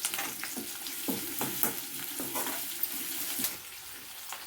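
Brinjal pieces frying in oil with chana dal, urad dal, cumin, onion and curry leaves make a low, even sizzle, broken by repeated scraping stirs and clicks of a spoon against the pan.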